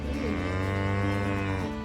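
A cow gives a single loud, close, sustained moo that lasts nearly two seconds, heard alone without talk.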